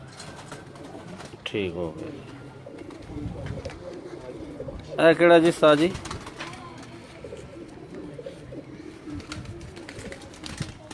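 Bateray pigeons bred by Imran coo in a couple of short bursts, one soft and one louder and closer, while someone speaks nearby.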